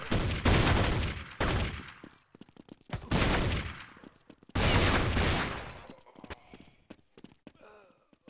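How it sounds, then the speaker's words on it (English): Bursts of rifle fire during a Counter-Strike match, several sharp volleys separated by short gaps, with faint scattered clicks and footsteps between them and no talk. "Oh, really nice shots by Nasu"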